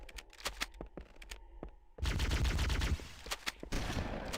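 Shotgun blasts and other weapon fire in the shooter Halo CE on Legendary, a string of sharp close shots, then a dense, loud stretch of continuous firing and explosions, with no talking.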